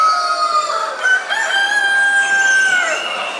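An almost completely white rooster crows once, a loud, close, drawn-out call rising and holding before trailing off, with no talking.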